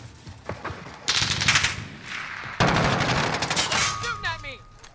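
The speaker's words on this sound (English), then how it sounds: "They're shooting at me!" Bursts of automatic gunfire in a shooter video game rattle loudly across the clip, with a quieter stretch early on, then two sustained heavy volleys and whistling tones near the end.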